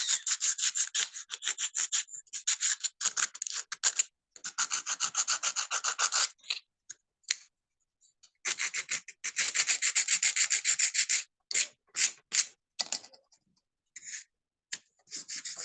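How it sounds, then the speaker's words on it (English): Sandpaper rubbed by hand against the sharp edges of an upcycled craft bangle, quick raspy strokes in bursts with brief pauses, close and fairly quiet. "So I'll just use this sandpaper to smoothen it carefully so the edges are smooth."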